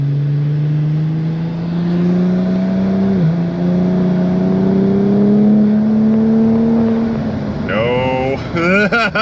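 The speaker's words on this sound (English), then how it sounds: "Attempt number 2 at full throttle." A twin-turbo Cadillac running on E85 flex fuel pulls hard at full throttle, its loud engine drone rising steadily in pitch, dipping briefly at a shift, then climbing again before rapid revving swoops near the end.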